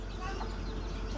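A chicken clucks close by in a short burst, with a voice talking over it.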